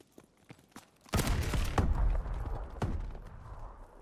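Gunfire and grenade blasts in a video game: a loud burst erupts after a quiet second, followed by a dense, ongoing fusillade of shots with a few sharp louder bangs.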